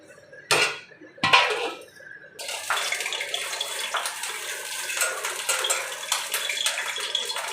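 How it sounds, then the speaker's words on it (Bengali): Fish pieces dropped into boiling fish curry in a pan: two sharp clattering splashes, then a steady loud sizzling bubble that carries on to the end. "দেখো ঝোলটা ফুটে উঠেছে, সেটার ভিতরে মাছগুলো দিয়ে দেবো"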